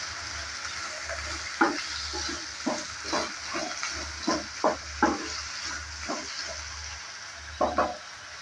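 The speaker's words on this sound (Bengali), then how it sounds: "দিয়ে দিচ্ছি কেটে রাখা আলু। আলুটা দেওয়ার পর নেড়ে চেড়ে নিচ্ছে।" Cut potatoes sizzle in a pan with nigella seeds for an aloo bathua shak fry, a soft continuous frying hiss broken by repeated sharp scrapes of a spatula stirring, close and unaccompanied by speech.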